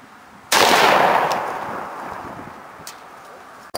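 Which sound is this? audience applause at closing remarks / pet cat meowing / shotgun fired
shotgun fired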